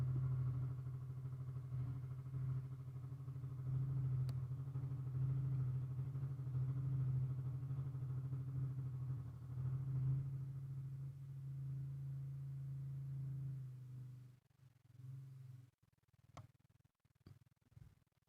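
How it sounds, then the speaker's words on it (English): Motorcycle engine outdoors, heard from inside as a steady low rumbling drone that holds for most of the stretch, then breaks into uneven clattery bursts near the end. "Y'all could probably hear the engine revving up with someone's motorcycle outside."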